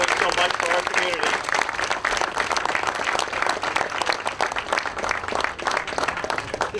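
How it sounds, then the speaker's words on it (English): Audience applause for past presidents at a Lebanese American Day community event, a dense wash of many hands clapping loudly and steadily throughout with voices mixed in. "A collective round of applause for all our past presidents doing so much for our community."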